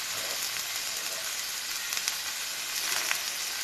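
Cucumber slices sizzle steadily in a hot pan alongside vegetables, a continuous close frying hiss with faint crackles and occasional stirring scrapes, no voices.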